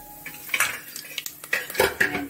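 Dry red chilies go into a pan of fenugreek frying in oil, bringing sharp clinks and scrapes of utensil on metal and brief rattles, close and irregular with no voices.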